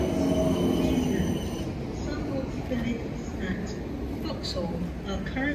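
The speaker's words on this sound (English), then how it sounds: "The train's about to leave." A steady low rumble of a passenger train pulling away from Raynes Park station toward London Waterloo, with some faint squeals and clanks over the drone and a voice murmuring quietly in the background.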